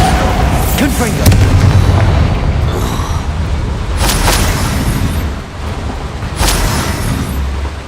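A Confringo fire spell from Hogwarts Legacy bursts in a loud booming blast, with further rumbling impacts and crackling bursts rolling through a dense game soundscape; no talk is heard.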